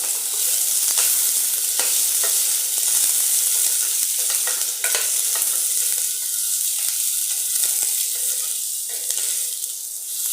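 Chopped onion fries in hot oil for a fish curry, giving a loud, close, continuous sizzle with scattered crackles and occasional sharp pops.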